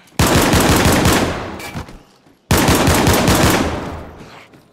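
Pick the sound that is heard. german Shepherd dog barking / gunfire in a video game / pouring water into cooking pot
gunfire in a video game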